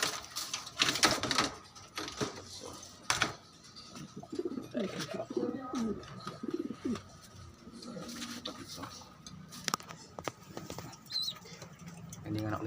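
Pigeons cooing softly in short bursts amid scattered clicks and taps, with quiet voices talking nearby.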